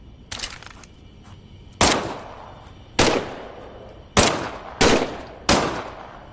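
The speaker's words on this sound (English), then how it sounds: "why don't you test fire your weapon?" A weapon test-fired in the Medal of Honor: Above and Beyond VR game, six sharp gunshots at irregular intervals, each with a loud attack and a short decaying tail, close and dominant over a quiet background.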